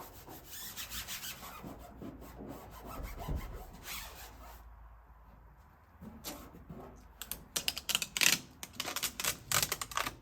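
A military marking decal being rubbed onto a model, producing close, scratchy rubbing strokes in irregular bursts with a quiet gap midway, then quicker, sharper scrapes.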